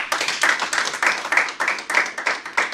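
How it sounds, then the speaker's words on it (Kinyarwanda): A group claps rhythmically in unison for a bride and groom at their civil marriage ceremony at a local sector office. About a dozen crisp claps land at a steady beat, close and fairly loud. "tubaha amashyi menshi cyane"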